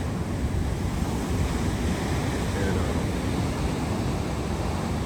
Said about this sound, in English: And the winds are like this.